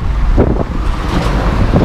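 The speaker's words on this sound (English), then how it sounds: "I'm really sorry if it's really windy." Strong wind buffets the microphone outdoors on a breezy, beach-like day, a steady loud low rumble with gusty swells throughout and no talking.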